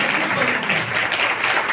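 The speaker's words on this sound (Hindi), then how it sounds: "उस परमेश्वर के लिए ताली बजाएं हम लोग" A church congregation at a preaching and healing prayer service in Faridabad breaks into dense, steady applause, many hands clapping together at close range for the whole stretch without a pause.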